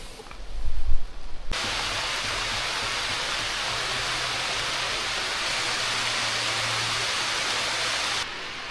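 Steady rain falling outdoors in Adirondack Park in autumn, a broad hiss lasting several seconds, loud and constant, preceded by a brief low thump.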